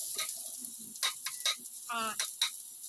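Onions for sisig hit hot oil in a pan, crackling and sizzling in bursts while a utensil scrapes and stirs them, close and lively over a quiet background.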